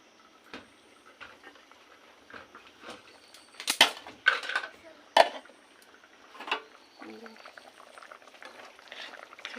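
A pot of vegetable curry bubbles on the stove with a soft, steady simmer, broken by louder clinks and scrapes from stirring utensils against the pot, plus a few faint voices.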